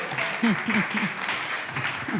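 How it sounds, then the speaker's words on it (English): An audience at an afternoon conference stage session applauds panel speakers, the clapping a brief, moderate wash mixed with voices and a cheer. "big round of applause, please, for Katrina, Loreto, and Anto."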